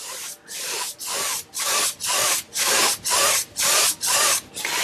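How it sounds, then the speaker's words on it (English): A brush loaded with oil paint is wiped firmly across a paper towel, making about nine loud, close, rhythmic scraping rubs, evenly spaced with short pauses between strokes. "I'm just going to take the excess paint off onto my paper towel."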